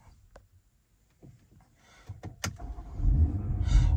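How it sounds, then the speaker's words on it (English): A BMW X3 M40i is started from inside the cabin: quiet clicks and a few sharp mechanical clunks, then the engine catches and settles into a loud, steady low rumble. "Now if we select a gear, start it back up."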